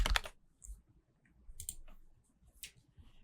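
Bursts of typing on a computer keyboard as a name is entered, quick clustered keystrokes in short groups with pauses between, close and crisp with no talking.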